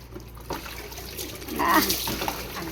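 Water splashes and trickles over a small child being bathed, a few pours with a louder gush in the middle, close by.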